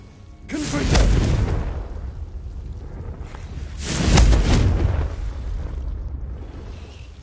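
Two booming magical blasts from a Confringo fire spell in Hogwarts Legacy, each swelling into a broad roar and fading, about three seconds apart over a rumbling game background.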